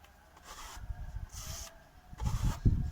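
A plaster float dragged right to left across mineral exterior plaster on a wall, giving soft gritty scraping and rubbing strokes in uneven bursts, close up and fairly quiet, with no talking.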